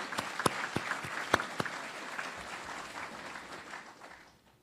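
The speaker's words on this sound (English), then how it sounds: "Let's give them a round of applause" An audience at a gathering with the First Lady and the Secretary of Defense in Montgomery breaks into a round of applause, starting with a few sharp individual claps, then thickening into steady clapping that fades away toward the end.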